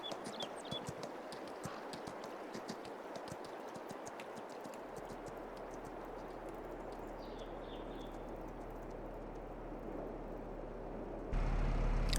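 A horse canters in the video game Farming Simulator 22, rapid rhythmic hoofbeats drumming steadily over a continuous rumble, with faint bird chirps.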